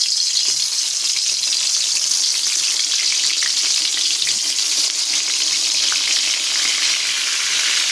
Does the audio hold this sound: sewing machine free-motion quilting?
no